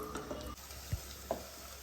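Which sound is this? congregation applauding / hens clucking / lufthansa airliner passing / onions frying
onions frying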